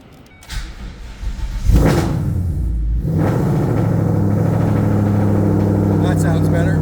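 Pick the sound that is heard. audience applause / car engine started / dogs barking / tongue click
car engine started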